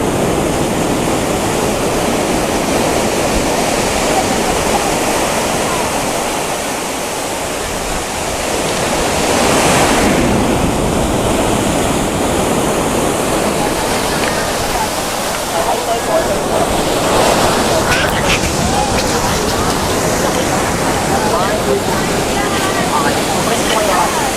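Big ocean waves crash and foam on a sandy beach at Balwarte, La Union, a steady loud roar of surf close by with swells rising and falling, and people's voices mixed faintly into the wash.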